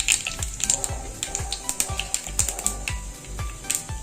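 Asafoetida tempering sizzles and crackles in hot oil for Kathiyawadi-style kadhi khichdi, a steady close frying hiss with repeated sharp pops and spatters, no talking.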